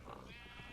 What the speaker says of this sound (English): The sheep somehow break out of here.